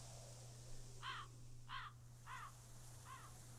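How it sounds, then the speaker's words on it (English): A crow caws four times in a slow, evenly spaced series, clear and fairly close against a low steady hum, in a horror interactive novel game. "That dang crow."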